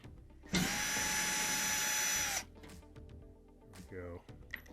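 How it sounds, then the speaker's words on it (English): A power driver backs out Phillips head screws on a Whirlpool dryer in one loud, steady whirring burst of about two seconds, close up, followed by quieter handling clatter and a faint voice. "We're going to remove these two Phillips head screws."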